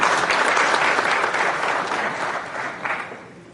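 Audience at a regional panel session applauds an Amazonian mayor, loud sustained clapping from many hands that gradually thins and fades toward the end.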